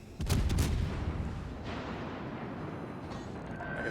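Enemy ship firing high-explosive shells at a US Navy destroyer in World of Warships Legends: one sharp, heavy boom at the start, then a long rolling rumble that fades slowly, with no voices.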